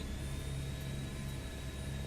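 Steady helicopter engine drone from Microsoft Flight Simulator 2024, a continuous even rotor and turbine hum with a constant low tone, heard alone without talk.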